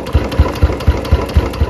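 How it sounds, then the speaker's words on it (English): A Royal Enfield Bullet 350 UCE single-cylinder motorcycle engine idles up close with a loud, steady thumping. About seven evenly spaced low beats fall in under two seconds, the classic slow thump of the Bullet's idle. "Now I will start the engine"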